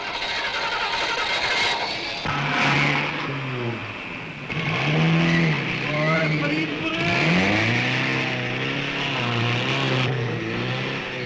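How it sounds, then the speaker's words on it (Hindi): A car engine labours and revs repeatedly while the vehicle is stuck, rising and falling strain over several seconds alongside tire noise, loud and close. "गाड़ी तो फंस गई, अब क्या करें?"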